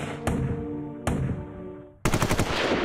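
Rapid automatic gunfire in a crowded Aurora, Colorado cinema during a mass shooting, loud and close, with a couple of sharp bursts that ring out and decay, then a faster volley of shots.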